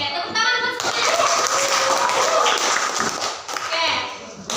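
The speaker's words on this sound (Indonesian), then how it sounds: "Oke, tepuk tangan buat semuanya." A grade 8 classroom claps together, a dense burst of hand claps and cheering that fills the space from near and far, with children's voices mixed into the din.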